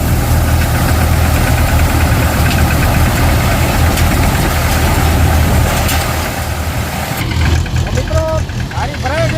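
A tractor engine runs loud and close during cumin harvesting, a steady, rough, knocking drone with its trolley loaded full, easing slightly near the end as faint higher tones appear.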